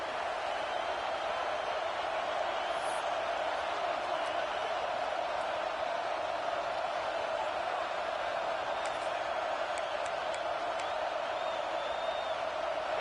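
Steady roar of a packed stadium crowd in an American football video game, a dense continuous wash of cheering held at one loud level throughout, with faint whistles and whoops poking out now and then.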